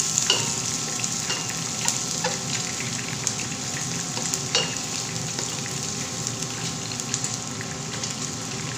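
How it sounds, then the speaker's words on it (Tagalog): Chopped onion and garlic sauté in a pan, a constant close, loud sizzle with scattered crackles and pops, steady throughout with no talking. "sinutay ko na yung onion at saka garlic"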